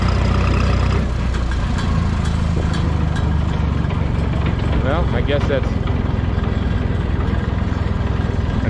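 A Minneapolis Moline tractor engine runs with a steady low rumbling throb at a vintage tractor show, loud and close throughout, while someone talks over it.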